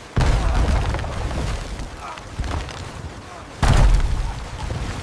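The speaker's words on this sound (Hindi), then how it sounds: "एक जोरदार धमाका हुआ। लकड़ी टूटने की आवाजें गूंज उठीं।" A heavy, booming crash of a wooden ship striking a hidden rock, with splintering wood, two strong impacts separated by a few seconds over a dense roaring background.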